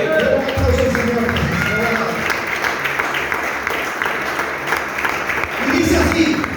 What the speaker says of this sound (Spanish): Pero un aplauso al Señor.